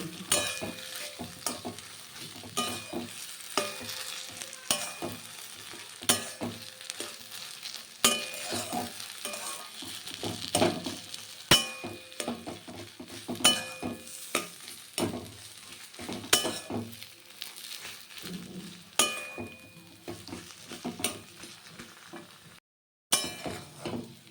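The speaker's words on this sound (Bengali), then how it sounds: "আগে হালকা ভেজে নেব" Potato filling for chilli pakora sizzles lightly in a frying pan, with steady crackling frying and repeated stirring scrapes and occasional clinks of the spatula against the pan throughout.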